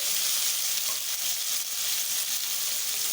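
Potatoes fry in hot oil with a little turmeric, giving a steady, bright, continuous sizzle close up with no talk.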